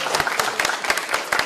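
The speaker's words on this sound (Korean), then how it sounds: "다시 한번 뜨거운 박수 부탁드리고요" An audience bursts into applause at a Korean presidential campaign rally for candidate Kim Moon-soo, a dense, sustained wash of many hands clapping close by, with sharper individual claps standing out.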